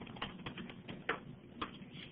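Typing on a computer keyboard during a presentation, a quick run of soft, close key clicks in an irregular rhythm, with a couple of slightly louder taps.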